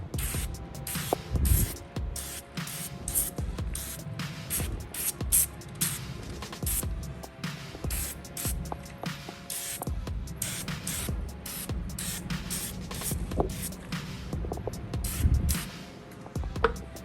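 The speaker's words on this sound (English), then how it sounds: "All right, so I've got it all sprayed up in there." Duragloss trim dressing sprayed inside a car wheel well, heard as repeated short hissing spray bursts with handling noises between them, moderately close and faint, without any talking.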